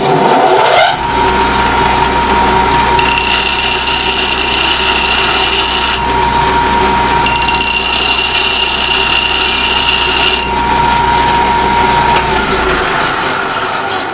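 Bench grinder in a metalworking lesson sharpens a chisel against the stone. A loud, steady motor drone runs throughout, and high grinding whines from the metal contact come in two stretches.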